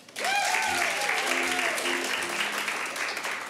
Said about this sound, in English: How many people, by a round of applause, have ever seen a live improvised comedy show before?